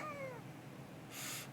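A cat gives a single short meow with a falling pitch at the start, quiet and close, followed by a brief hissy rustle near the end.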